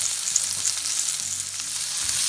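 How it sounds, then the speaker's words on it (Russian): Coarsely chopped onion and pepper fry in a pan over high heat for an Asian shrimp noodle dish, giving a steady, close, bright sizzle that runs unbroken for the whole short stretch, with no voices. "После того, как вы обжарили перец вместе с луком"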